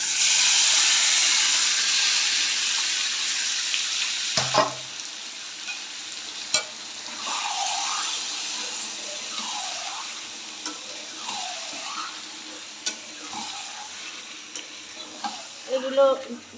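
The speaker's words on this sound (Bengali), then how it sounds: "পেঁয়াজ ভাজা হয়ে গেছে এবার মাছগুলো দিয়ে দিচ্ছি" Lote fish goes into a pan of fried onions, starting with a loud hissing sizzle that settles into a softer, steady fry broken by scraping stirs and small clatters.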